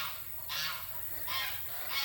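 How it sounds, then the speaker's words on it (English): Geese honk in three loud bursts about every three-quarters of a second as a flock approaches a garden, the calls close and harsh over quiet outdoor background. "Oh, I think the geese are coming to see us."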